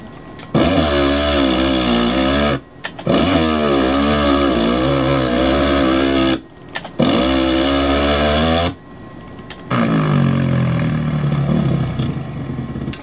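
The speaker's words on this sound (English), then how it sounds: "I'll just give you a quick sample of some of the other sounds of the engines" A 450 4-stroke motorcycle engine from the game MX vs ATV Alive revs in three long sustained bursts separated by short cutoffs, then settles into a lower idle, loud and close with no speech.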